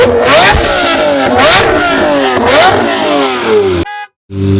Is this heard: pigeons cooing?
no